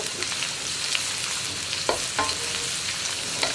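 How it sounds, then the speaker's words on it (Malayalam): Carrot and onion sautéing in a pan for sweet corn fried rice, a steady moderate sizzle broken by a few scraping strokes of a spatula, no speech. "ഇനി ക്യാരറ്റും സവോളയും ചേർത്ത് ഒന്ന് വഴറ്റിയെടുക്കാം."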